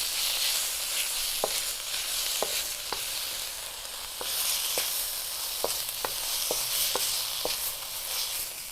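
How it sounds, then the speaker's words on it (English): Spices frying for a spicy vegetable stir-fry, a steady close sizzle broken by sharp, scattered clicks of the spoon against the pan. "And fry it until it smells good."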